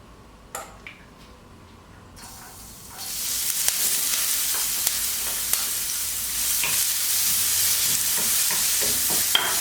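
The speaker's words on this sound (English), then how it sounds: "My wok will be hot, so when adding the oil, add it on the outside of the pan." Onions fry in hot oil in a wok, first in near quiet with a few clicks and taps, then a loud sizzle surges in and holds, broken by intermittent scraping and tapping of stirring.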